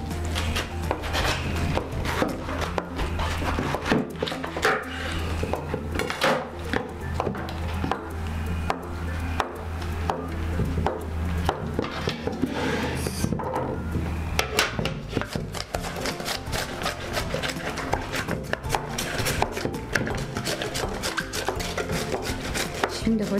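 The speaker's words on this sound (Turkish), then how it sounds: "Ben de lahanayı doğramaya başlayayım." Steady, rapid knife chopping on a cutting board, crisp repeated thuds and crunches of cabbage continuing throughout at a close, even pace.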